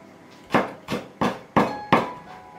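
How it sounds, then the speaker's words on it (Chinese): A knife chops dried radish on a cutting board in a home kitchen, five sharp, evenly spaced thuds, loud and close. "然后把它切碎。"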